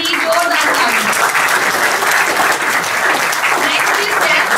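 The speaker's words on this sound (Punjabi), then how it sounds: "ਇੱਕ ਵਾਰੀ ਸਾਰੇ ਪਾਰਟਿਸਿਪੈਂਟਸ ਦੇ ਲਈ ਜ਼ੋਰਦਾਰ ਤਾੜੀਆਂ।" Loud, sustained applause from an audience at a college anti-ragging slogan writing competition, clapping steadily for the participants without a break.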